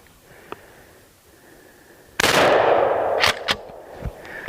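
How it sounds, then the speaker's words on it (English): A Remington 870 12-gauge pump shotgun fires at a wooden pallet, one loud sharp blast followed by a long decaying echo, then two more quick sharp reports and a fainter bang, outdoors with no talking. "Let's shoot that pallet."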